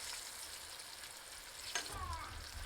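Bluegill fillets sizzle steadily in a small skillet, a constant close frying hiss with a brief clink partway through and louder bubbling near the end.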